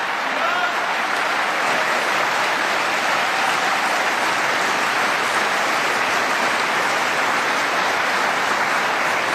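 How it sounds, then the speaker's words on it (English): Dense, steady applause from a large military audience fills the whole stretch, a continuous rain-like wash of clapping with no pauses, recorded close and loud at a presidential farewell address to the troops. "Clap for that, folks, because she deserves it."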